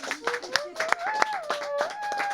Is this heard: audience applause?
yes